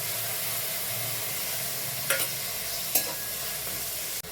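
Cumin, ginger and chili paste sizzling in a pan with capsicum and tomato, a dense continuous frying hiss with two brief scraping stirs near the middle, close and steady.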